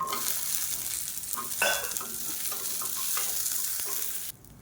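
Urad dal, green chillies and small shallots fry in a pan for a chutney, making a steady close sizzle with occasional stirring scrapes. The sound cuts off sharply just before the end.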